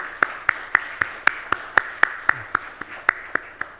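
A single person claps steadily and distinctly, about four claps per second, to welcome visiting missionaries at a Korean church service in Chile, close and clear over a quiet room.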